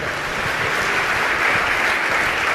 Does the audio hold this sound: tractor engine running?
no